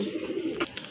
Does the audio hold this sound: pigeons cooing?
yes